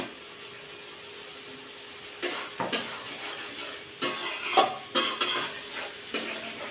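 Spiced oil masala sits quiet before pieces of mud fish go into the pan, setting off bursts of sizzling and spluttering with soft clatter from a utensil. The sound is fairly close and no one speaks.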